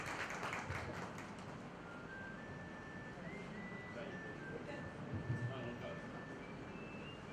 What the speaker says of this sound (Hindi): हम खयाम साहब का और जगजीत जी का जोरदार तालियों से स्वागत करते हैं